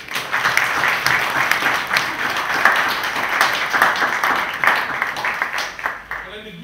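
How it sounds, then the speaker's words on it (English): Sustained audience applause fills a book launch event, a dense, steady wash of many hands clapping at close range for about six seconds before it quickly dies away. "can we give her a round of applause?"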